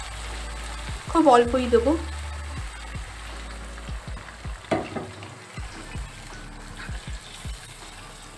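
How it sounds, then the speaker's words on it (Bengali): Hot water goes into frying chicken masala for dhaniya chicken, sending up a loud burst of sizzling and bubbling that settles into steady frying and stirring while someone briefly speaks. "এর মধ্যে গরম জল দিচ্ছি"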